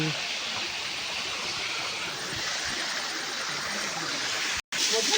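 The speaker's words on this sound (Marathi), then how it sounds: "धबधबा काही दिसत नाही एवढा लांबना. आवाज येतोय." A distant waterfall in the rainy Konkan countryside, heard as a steady, even rushing hiss that fills the whole stretch, with a brief dropout near the end.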